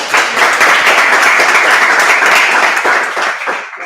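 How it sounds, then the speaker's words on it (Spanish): An audience in a physics lecture room applauds to welcome a speaker, with loud, dense, sustained clapping from many people that fades out at the end. "Un aplauso, por favor."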